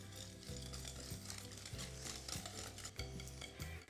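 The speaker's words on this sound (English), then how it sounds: "Let's start whisking everything together." Lemon zest, salt and eggs are whisked in a bowl for a ricotta and pear pastry, a rapid, rhythmic scraping and clicking repeated in quick bursts, close and alone.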